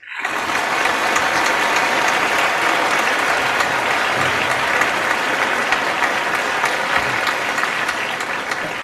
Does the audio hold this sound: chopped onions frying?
no